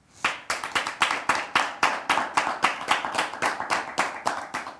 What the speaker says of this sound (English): round of applause for the startups and also for our jury